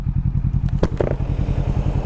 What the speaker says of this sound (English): A couple of motorcycles just went up over there